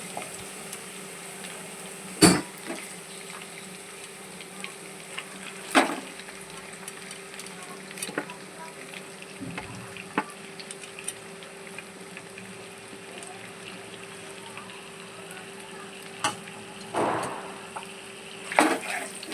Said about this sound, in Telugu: తర్వాత ఆనియన్ వేసుకోవాలి అవి బాగా కలుపుకొని అవి కొంచెం వేగాక చికెన్ వేసుకోవాలి